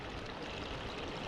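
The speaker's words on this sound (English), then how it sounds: "There's a trickle today." A mountain stream at Green Up Gill near Stonethwaite on a hot May day, a steady continuous rush and trickle of water over stones, close and even with no voices.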